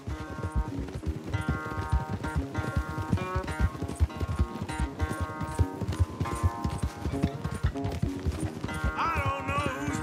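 Horses gallop in a race in the Red Dead Redemption 2 video game, their fast drumming hoofbeats running throughout under a loud musical score, with a brief whinny near the end.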